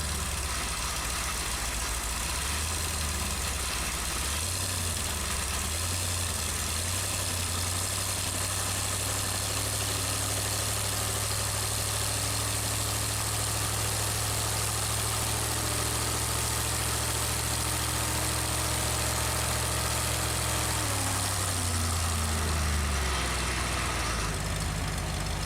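A worn Ford 302 V8 with bad piston rings idles steadily on its first run, a loud continuous low rumble with a slight dip and rise near the end, no voices.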